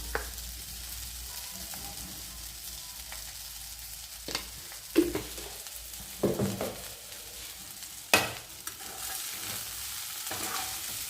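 Pasta sautéed in a pan, a soft low sizzle under a few distinct spoon stirs and scrapes spaced several seconds apart, fairly quiet with no talking.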